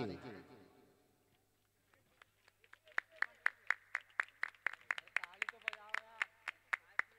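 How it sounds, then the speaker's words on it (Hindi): Crowd applause welcoming dignitaries at a Shri Ram Katha festival in Pathridih, starting after a quiet pause with scattered claps that swell into dense, sharp clapping, with voices murmuring underneath. "जोरदार तालियों से स्वागत करेंगे"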